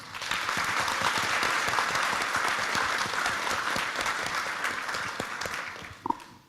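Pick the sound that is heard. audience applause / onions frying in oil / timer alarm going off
audience applause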